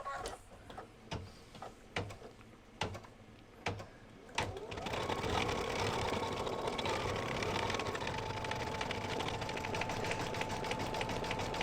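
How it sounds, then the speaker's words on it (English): Embroidery sewing machine stitching an archway design for a quilt: a few separate clicks, then a steady fast mechanical whir of stitching that runs on evenly, close and moderately loud. "I'll hit embroidery. Okay, and it's going to do that archway first. So I'm just going to let this stitch."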